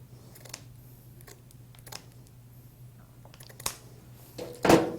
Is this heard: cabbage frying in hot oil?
no